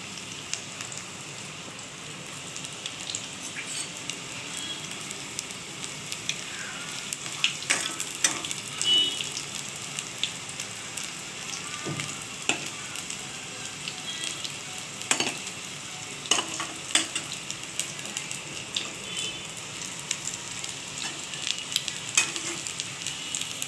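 Chicken pakoras bubbling and sizzling in hot oil, a steady crackling hiss with scattered sharper pops and occasional clinks, moderately close.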